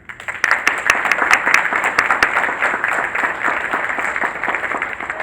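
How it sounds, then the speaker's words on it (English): A crowd applauds at a candidate forum, dense clapping from many hands that starts abruptly and carries on steadily for several seconds, loud and close, with no talk over it. "I'd like for you to have another round of applause as well."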